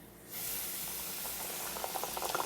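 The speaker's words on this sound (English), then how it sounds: "I notice it's starting to sizzle around it, so that means it's ready to throw in our wings." Chicken wings dropped into hot frying oil for crispy hot wings set off a sudden, loud, continuous sizzle and hiss, with sharper bubbling pops building toward the end.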